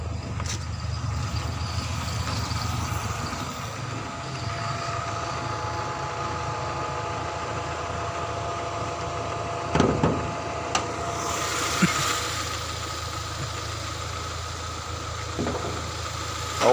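A 1994 Honda Accord Cielo with an injection engine idling close by, a steady low hum and vibration with a few faint clicks and knocks over it, and no talking.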